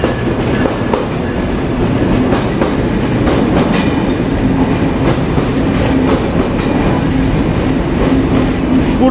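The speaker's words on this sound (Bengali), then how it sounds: "আলমডাঙ্গা রেলওয়ে স্টেশনের 2 নম্বর প্ল্যাটফর্মে প্রবেশ করছে আমাদের আজকের সফর সঙ্গী, লোকোমোটিভের সিরিয়াল নাম্বার 6332।" The Sundarban Express, locomotive 6332, rolls into platform 2 at Alamdanga station, a loud, close, continuous rumble with rhythmic wheel clatter over the rails and faint squeals, no voices.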